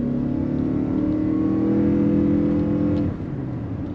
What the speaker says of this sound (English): It accelerates relatively well around town.